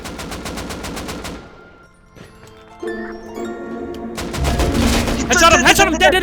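Rapid automatic gunfire in the survival game Rust, a loud burst of closely spaced shots, a short lull with faint tones, then another sustained volley, with voices talking over it.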